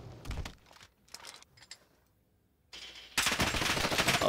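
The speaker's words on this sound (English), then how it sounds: "Oh, he's getting shot." Gunfire in the Warzone video game, a few short bursts of rapid automatic shots followed by a quiet gap and then a sustained loud volley of fire up close.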